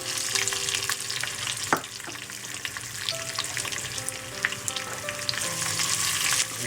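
Curry leaves with whole red and green chilies frying in hot oil for Indian moong masoor dal, a steady sizzle broken by occasional stirring clinks and scrapes.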